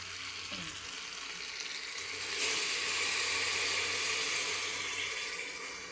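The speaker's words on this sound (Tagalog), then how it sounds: "Lagyan natin siya ng tubig." Water pours steadily into a pot holding a whole chicken, a running splash that grows louder and fuller about halfway through and then holds.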